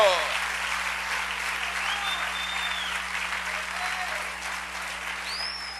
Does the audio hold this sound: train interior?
no